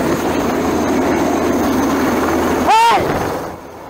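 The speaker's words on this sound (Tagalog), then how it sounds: "lalong lumapit ang helicopter ng Chinese Navy" A Chinese Navy helicopter flies low, about 50 feet above the water, its rotor and engine making a loud, steady, close roar that drops away at the end, with a brief whistling tone partway through.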